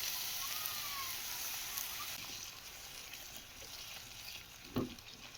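Spice paste frying for a Bengali katla fish curry, with beaten sour yogurt just stirred in, makes a constant faint hiss like light rain, broken by a single soft knock toward the end.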